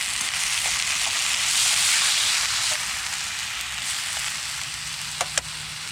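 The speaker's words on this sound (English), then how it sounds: "Listen to that sizzle." Fajitas sizzle steadily in a hot pan inside a hot tent at a snowy campsite, a dense continuous frying hiss with a few small pops near the end.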